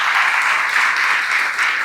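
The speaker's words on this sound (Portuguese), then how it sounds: "Dá uma salva de palmas para Jesus." Dense, continuous applause from a church audience, loud and close, a full wash of many hands clapping at once without pauses or speech.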